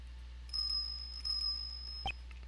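A small bell on a dog's collar jingles briefly near the end, over a steady tonal hum and quiet game background in Ace Attorney Investigations 2.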